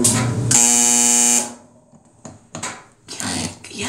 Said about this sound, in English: this is not the best buzzer in the world